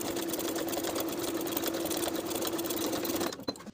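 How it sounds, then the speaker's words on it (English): A sewing machine stitches steadily across a welt pocket on a dress, running a continuous even hum for over three seconds before stopping abruptly near the end. "Sew from dot to dot from one edge of the welt to the other, right on top of the original basting stitches"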